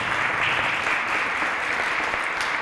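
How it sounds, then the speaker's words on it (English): An audience claps steadily throughout at a press conference, sounding like a dense crowd a short distance away, with no other sounds. "Yes, please put up a round of applause."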